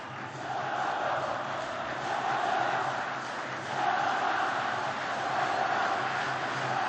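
Steady roar of a large football stadium crowd at a Jordan vs Oman AFC Asian Cup qualifier, a dense continuous murmur with slight swells throughout.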